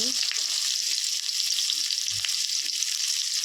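Chopped onion and garlic fry in a pan for chowmein, giving off a loud, continuous close-up sizzle with a few faint clicks and no clear talking.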